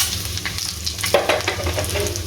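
Ground tandoori masala sizzling in hot smoking oil, a steady crackling fry with brief stirring scrapes, close and fairly loud.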